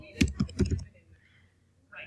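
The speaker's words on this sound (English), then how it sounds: "So I'm going to type that in here." A handful of quick keystrokes on a computer keyboard tap out in a short burst, followed by a pause and one more soft click, close and fairly quiet.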